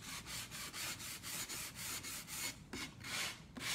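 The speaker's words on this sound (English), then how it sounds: "It's a sandpaper block." A sandpaper block is rubbed back and forth by hand in quick, regular strokes, giving a close, steady rasping rhythm of about a dozen passes with no talking.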